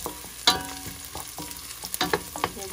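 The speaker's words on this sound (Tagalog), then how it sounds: "Inauna ko yung luya tapos yan sibuyas, bawang. Ginigisa ko siya." Ginger, onion and garlic sauté in a hot pan for sinigang, a steady sizzle broken by sharp clinks and scrapes of a utensil stirring them, close and fairly loud.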